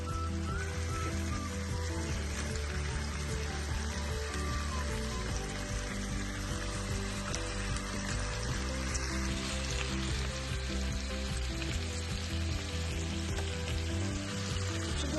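Prawns and onions frying in a pan, a steady dense sizzle and crackle running continuously at moderate level with no talk.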